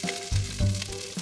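Onions hit hot oil for a stew base, giving a short loud sizzle that flares twice in quick bursts, close and with no talking.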